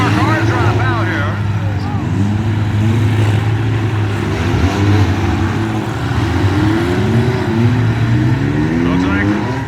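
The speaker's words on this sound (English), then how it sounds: "Looks like the number 3 trying to refire." At a demolition derby, a battered car's engine sputters and revs unevenly as it tries to refire, surrounded by the roar of other engines and a commentator's voice.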